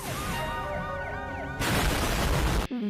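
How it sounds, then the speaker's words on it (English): A police car siren in an animated movie wails in rising and falling sweeps for about a second and a half, then is cut off by a sudden loud crash-like burst of noise. "as the police car turns up and..."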